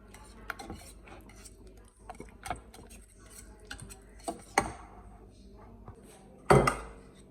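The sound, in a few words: stirring butter into hot tartlet filling with a utensil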